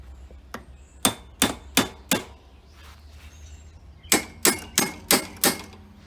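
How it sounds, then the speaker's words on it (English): Sharp metallic hammer strikes, close by, bending shock mounts on a 1987 Yamaha Moto-4 225 ATV: a run of four blows, a pause, then five more in quick, steady rhythm. "take a hammer and bend these shock mounts out a little"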